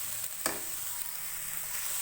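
Fried chicken is stirred into rice in a hot pan: a constant soft sizzle with a brief scrape of the utensil near the start, close and fairly quiet.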